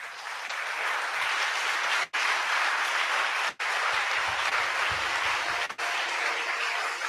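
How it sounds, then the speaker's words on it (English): A church congregation claps continuously and loudly at a summit worship service, a dense steady wash of many hands with only brief pauses. "Please, I want you to clap for God."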